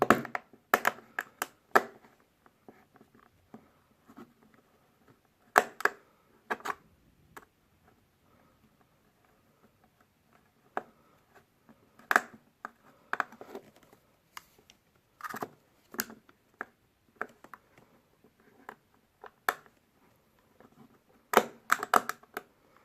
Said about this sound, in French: Nous allons donc essayer d'en dévisser une.